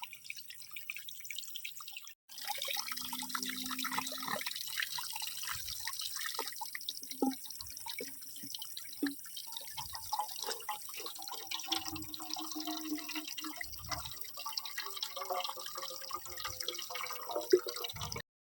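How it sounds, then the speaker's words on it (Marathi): Water from a small mountain spring in the Sahyadri trickles and drips steadily over rocks, a close, continuous splashy patter with scattered brighter drops, alone without voices. "हे पाणीवरती क्लाइम्बिंग करायला तर मस्त वाटतं एकदम हे बघा असा हा झरा"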